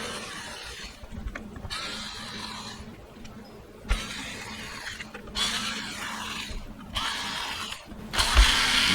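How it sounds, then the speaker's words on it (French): Screws being undone on an Xbox One X console with a ratcheting screwdriver, repeated clicking ratchet passes in bursts broken by brief gaps, close up and moderately quiet, with no voices. "Là, on va dévisser."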